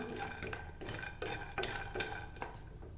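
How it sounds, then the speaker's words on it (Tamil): Peanuts being dry-roasted in a pan, with repeated stirring scrapes and soft rattling of the nuts against the metal at a steady, close, moderate level. "வேர்க்கடலை நல்லா வறுத்து எடுத்துக்கலாம்"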